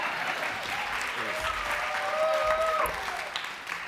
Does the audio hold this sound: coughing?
no